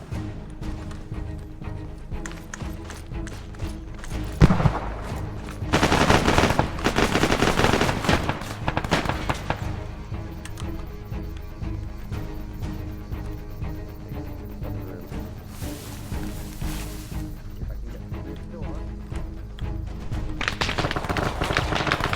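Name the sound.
gunfire in a military video game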